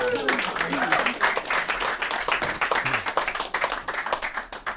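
An audience at a house concert breaks into steady applause, dense clapping from many hands that fills the room close by, with a brief voice near the start.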